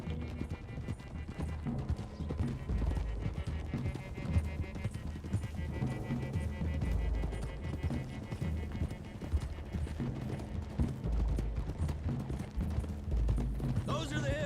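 Horses galloping in the Red Dead Redemption 2 video game, a steady, close clip-clop of hooves running throughout with occasional whinnies, a background score and voices talking over it.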